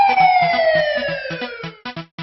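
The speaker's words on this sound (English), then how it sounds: "Police car." A police car siren sounds a loud, close wail that slides downward in pitch, with a rhythmic pulsing beneath that breaks into choppy bursts at the end.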